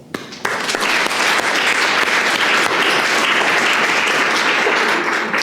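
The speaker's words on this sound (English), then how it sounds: "I just want to give them a real round of applause." Applause from the audience at a Princeton keynote lecture begins abruptly and continues as loud, dense, even clapping for several seconds, with no talking over it.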